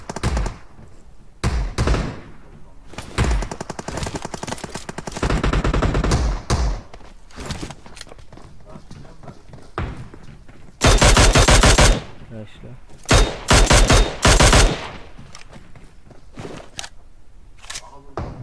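Bursts of automatic gunfire and single shots ring out in a battle royale shooter, loud and close, coming in clustered volleys separated by quieter stretches of ambient game sound.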